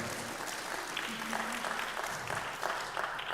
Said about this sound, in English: Let's give a round of applause for Frank Hessel